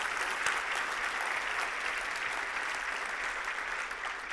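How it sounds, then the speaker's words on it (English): A large audience at a charity breakfast claps for volunteers, an even, continuous roar of applause heard from a distance and fairly soft, with no speech. "go ahead and give another round of applause to our 350 volunteers"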